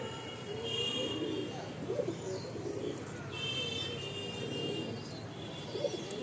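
A Mundi Sada pigeon coos softly in a quiet indoor loft, low murmuring calls repeating at intervals over a faint background hum.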